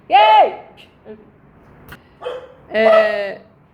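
A dog barks a few times close by, loud sharp barks with short pauses between them and a faint sound in the gaps, with nobody talking over them.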